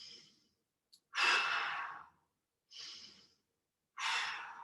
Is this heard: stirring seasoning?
no